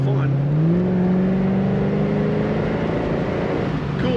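A 1989 Chevrolet Corvette convertible's engine climbs in pitch as it accelerates under load on the road, a loud, steady close-up drone with a rising whine, and a voice speaks over it.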